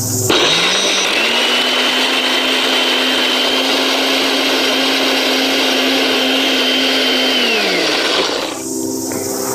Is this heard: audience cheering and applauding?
no